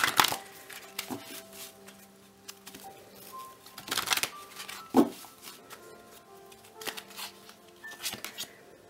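Tarot cards being shuffled, brisk papery riffles and flicks in short bursts, close and fairly quiet, with faint tonal hum in the background.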